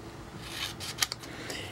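Crinkly material is cut to make a banner, with a soft rasping rub followed by a couple of sharp, brief snips, close and quiet.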